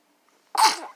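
A single sharp sneeze bursts out close by after a moment of silence, loud and breathy, trailing off quickly.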